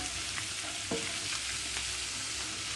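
Green beans and green pepper are stirred into rice frying in a pan for Nigerian fried rice, a steady close sizzle with soft scraping strokes of the spoon, no voices.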